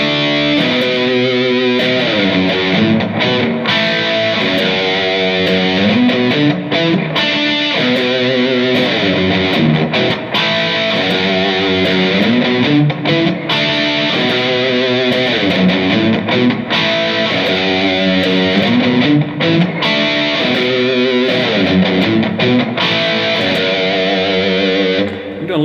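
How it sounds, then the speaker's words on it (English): Distorted electric guitar plays a riff slowly, with palm muting on the low fifth and sixth strings, a loud, steady, chugging run of notes with no voice over it. "A little bit of palm muting on the 5th string and the 6th string."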